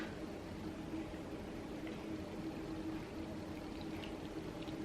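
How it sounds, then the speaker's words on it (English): Water pours steadily into the pot of a freshly replanted anthurium, a continuous close, hissing trickle with no talking. "I'm gonna give him some water."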